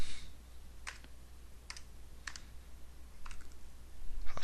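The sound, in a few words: typing on a computer keyboard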